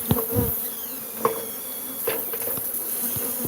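Bees buzz around a hive, a steady high droning hum filling the background, with several sharp close taps and knocks as someone reaches into the hive.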